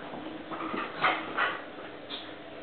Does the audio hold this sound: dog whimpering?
yes